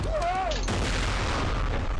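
Grenade explosion in Borderlands 2: a descending whistle precedes a loud booming blast that rolls into a sustained rumbling roar.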